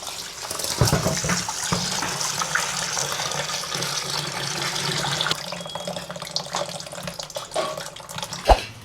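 Tap water running steadily into a sink while raw chicken is washed by hand, a continuous close splashing stream with occasional knocks and clatters.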